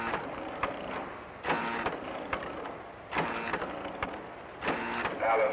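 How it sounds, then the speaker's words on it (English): A pie factory machine adding apple filling runs in a repeating mechanical cycle, bursts of whirring and clattering roughly every second and a half, fairly close and moderately loud. "A different machine adds the apple filling."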